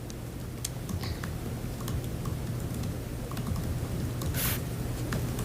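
Steady, close typing on a computer keyboard during a planning commission meeting, a continuous patter of quiet key clicks over a low room hum, with no one speaking.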